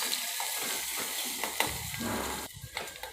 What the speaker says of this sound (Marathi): आता या सर्व वस्तू व्यवस्थित फ्राय करून घ्या